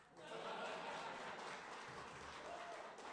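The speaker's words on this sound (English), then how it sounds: "That's an applause line" Steady applause from an audience at a peace symposium lecture hall, a continuous wash of clapping rising quickly at the start and holding evenly, heard at a moderate distance.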